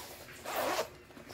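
The front zipper on a checkered Rushman belt bag is pulled open in one short, close rasp lasting about half a second, with no talking over it.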